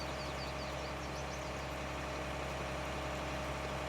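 A tractor engine runs steadily in the video game Farming Simulator 19 while the tractor pulls a cultivator, a constant loud drone with no pauses.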